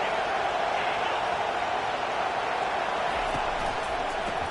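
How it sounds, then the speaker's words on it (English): A football stadium crowd at a Louisville game roars in a dense, steady wall of cheering that holds loud and unbroken for several seconds. "Listen to this crowd just shaking the girders of this place"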